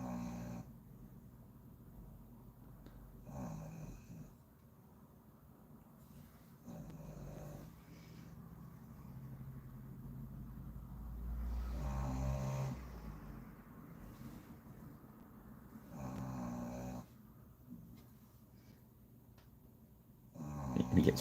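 A snoring dog keeps up slow, rhythmic snores, each rough rumbling breath rising every few seconds against a quiet room for about twenty seconds, moderately close and unaccompanied by speech.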